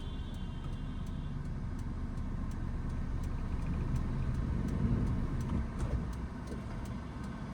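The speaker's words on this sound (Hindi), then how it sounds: "इंजन का साउंड सुनना, जैसे इंजन एक्टिव हो फिर ब्रेक को रिलीज करना" A car engine idles and rumbles steadily as the driver works the clutch and brake to start off uphill, a close, continuous low drone with no talking.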